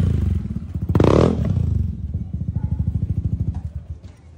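A motorcycle engine idling close by at a Christmas party, a rough, rapid thumping putter with a brief louder rev near the start, then settling into a steady chugging idle.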